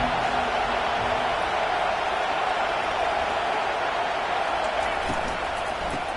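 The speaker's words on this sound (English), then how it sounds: "This crowd bringing an ear-splitting welcome to their visitors" A college football stadium crowd roaring in a steady, dense wash of noise that holds at full level throughout, with a commentator's voice over it.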